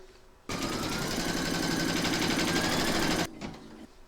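Embroidery machine stitching a placement outline for a Santa applique, a steady fast mechanical whirr that starts abruptly, runs for almost three seconds close up and stops sharply, with faint motor hum before and after.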